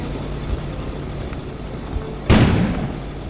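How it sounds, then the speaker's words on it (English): An explosion goes off outside in the video game Kona: a sudden, loud boom bursts out of a quiet ambient background about two-thirds of the way through, then trails off into a decaying rumble. "An explosion suddenly occurred outside."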